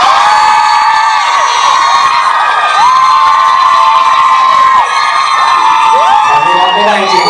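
A large crowd screams and cheers loudly and continuously, high shrill voices rising and falling together throughout.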